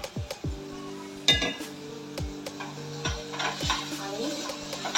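Drumsticks frying in oil with ginger garlic paste for drumstick dal, a soft steady sizzle under repeated stirring scrapes and metal clinks against the pan at close range.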